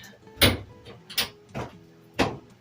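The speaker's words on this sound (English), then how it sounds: "We're going to go ahead and get the door closed." Home freeze dryer door closed after the last tray of apples is slid in, a few close thuds and clunks of the door and latch at uneven intervals, fairly loud and without talk.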